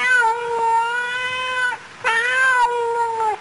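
A domestic cat meows twice in a row, each call long, drawn-out and harmonically rich, loud and close with a brief pause between them and no voices.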